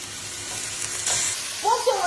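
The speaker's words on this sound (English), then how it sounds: "next you want to get your chicken into the frying pan" Chicken pieces go into a hot frying pan for a budget hotpot, giving a soft, steady sizzle with a brief brighter burst midway and a few clanks of utensils near the end.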